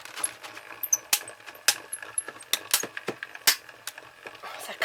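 A paper die-cutting machine runs with a card being crafted for a sweets-house design, giving a string of sharp clicks, ticks and clinks at irregular intervals, close and moderately loud, with no talk.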